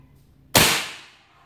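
A single sharp crack followed by a brief decaying rattle, as a shot from a Desert Eagle airsoft pistol punches into a cardboard box nearby.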